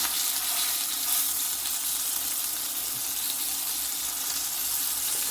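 Beef tenderloin sears in hot olive oil in a pan, giving a steady, close, hissing sizzle that carries on evenly without pause and with no talking.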